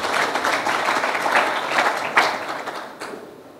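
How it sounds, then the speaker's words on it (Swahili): Applause from a crowd at a football club sponsorship announcement, a dense burst of many hands clapping that gradually thins and fades out toward the end. "Makofi mengi tafadhali"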